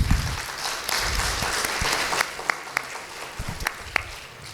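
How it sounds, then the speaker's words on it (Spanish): Attendees at a church conference applaud a lecturer after his class, a round of many hands clapping that thins out toward the end into a few scattered, sharper individual claps. "si damos un aplauso a nuestro expositor por la clase de hoy"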